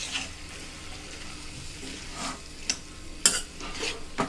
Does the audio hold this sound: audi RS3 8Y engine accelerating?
no